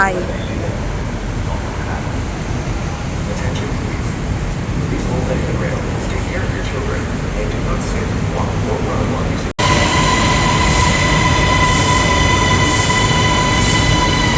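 A Bangkok metro train rumbles loudly, then a high whine and wheel squeal take over as it pulls into a crowded station; voices murmur underneath.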